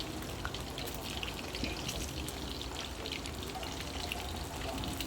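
Tilapia fries in oil in a pan, a continuous soft crackle and sizzle with scattered pops, steady and fairly faint, with no talking.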